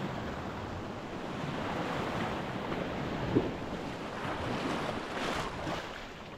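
Steady roar of surf and wind at a beach in Ayia Napa, waves washing in continuously with a soft rushing swell, no voices.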